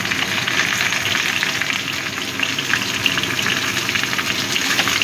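Ridge gourd and drumstick pieces fry in a pan, making a loud, dense, unbroken sizzle and bubbling crackle close by.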